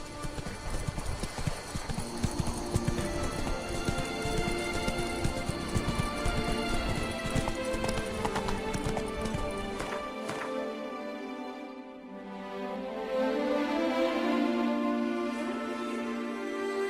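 Roach, the horse in The Witcher 3, clip-clops along in a rapid regular hoofbeat rhythm over game music, the hooves fading out partway through while the music carries on.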